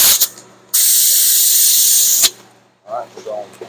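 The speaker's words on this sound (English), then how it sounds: "spray through my gun real quick" A car paint spray gun hisses in one steady, loud blast lasting about a second and a half, followed by a brief quieter pause and a few clicks.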